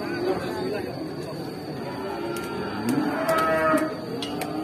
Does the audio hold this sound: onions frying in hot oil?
no